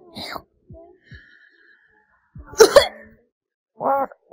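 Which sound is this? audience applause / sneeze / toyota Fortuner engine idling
sneeze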